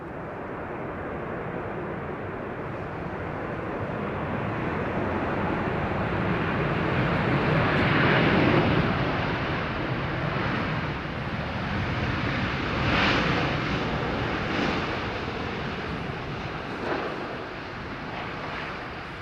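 Airliner landing on runway 27R at London Heathrow, a broad roar of jet engines and reverse thrust that swells and stays loud throughout, with wind buffeting the microphone and no talk.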